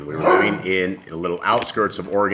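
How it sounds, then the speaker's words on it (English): A pet dog barking and yipping indoors in short bursts, mixed in under someone speaking steadily. "that is my dog, and my apologies for him"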